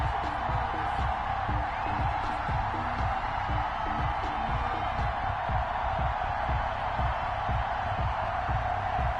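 Stadium crowd noise from an EA Sports football video game as the Ravens and Bengals take the field before a Baltimore crowd, a steady wash of cheering roar under a rhythmic pulsing beat, with commentary talk over it.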